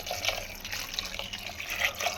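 Water splashes and runs steadily into a pressure cooker pot of ground masala for dry fish sambar, a continuous watery rush with small bright spatters throughout.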